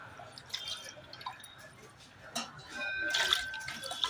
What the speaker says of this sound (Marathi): आता आपण फ्राईड राईस मध्ये टाकायला भाज्या धुवून घ्या धुवून चिरून घेणार आहोत